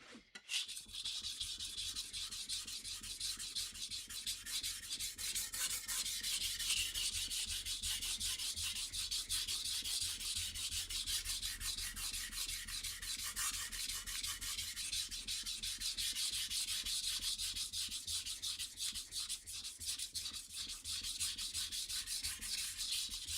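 Blade steadily sharpened on a 400 grit stone to finish shaping its bevels, a continuous rhythmic scraping and rubbing stroke after stroke, close and alone with no voices.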